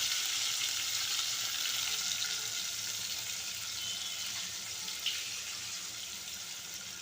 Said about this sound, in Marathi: ही कोळंबी याच्यामध्ये म्हणजे चांगली परतवून घ्यायचे जरा टाईम लागतो परतायला